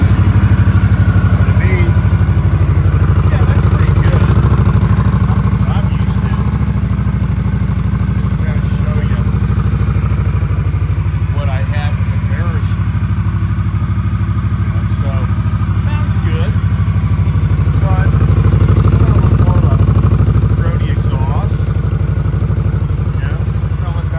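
Indian Scout Bobber motorcycle engine with a new short muffler, running with a steady low rumble throughout, close and loud, with occasional clatter on top.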